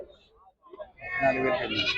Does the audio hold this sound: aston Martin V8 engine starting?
no